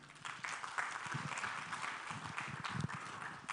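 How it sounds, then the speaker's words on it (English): Applause at a congress opening ceremony, a crowd clapping steadily in a dense, fairly distant patter that holds at even loudness for a few seconds without speech. "Shall we clap for him once again?"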